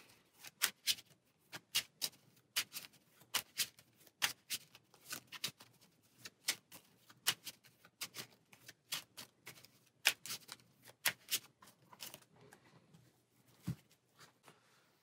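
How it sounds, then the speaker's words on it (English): A deck of playing cards for The Lord of the Rings living card game being shuffled and handled, with quick irregular riffle clicks and taps, close and quiet, no talking. "shuffle these in"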